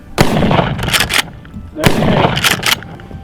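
Two loud, close blasts from a Mossberg Shockwave pump-action 12-gauge firearm, each sharp report followed by the clack of the pump action being cycled, spaced about a second and a half apart outdoors.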